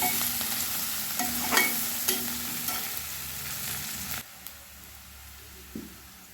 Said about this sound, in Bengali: এরপরে আমি আদা রসুন দিয়ে দিলাম, আবারও একটু ভেজে নেব যতক্ষণ রসুন আর আদার কাঁচা গন্ধ না যায়।